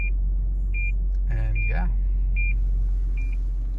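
Short, evenly spaced electronic beeps repeat from a 2018 Toyota 4Runner rear parking sensor over a low engine rumble, while someone speaks briefly in between.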